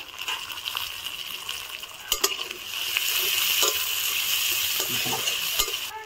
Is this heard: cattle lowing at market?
no